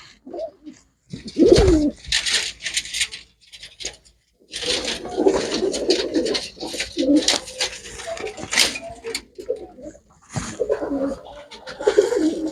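Pigeons for sale coo in short, repeated bursts close by, interspersed with rustling and faint chirps.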